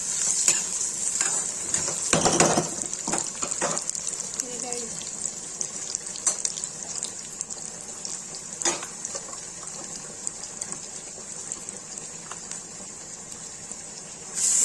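Butter, desi ghee and garam masala are stirred in a pan for Kashmiri white chicken korma, giving a soft continuous sizzle with scraping stirs and a few sharper clatters, under intermittent talk.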